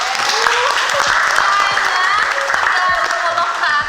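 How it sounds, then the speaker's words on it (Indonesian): A class of students applauding in a classroom, dense continuous clapping at close range lasting the whole few seconds, with a voice or two mixed in. "Tepuk tangan dulu."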